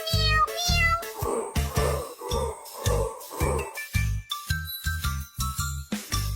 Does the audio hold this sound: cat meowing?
yes